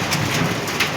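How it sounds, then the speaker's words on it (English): Hailstones coming down like a heavy shower, a steady dense hiss of pelting impacts on surfaces with a few louder bursts, continuous and close with no talking. "it's raining stones"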